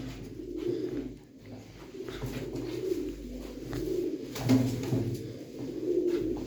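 Two pigeons, a smoky and a grey-smoke pair, coo softly and repeatedly nearby, low rolling calls recurring every second or so with quiet background rustling.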